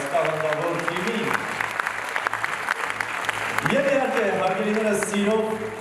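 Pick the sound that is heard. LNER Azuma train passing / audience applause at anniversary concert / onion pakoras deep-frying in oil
audience applause at anniversary concert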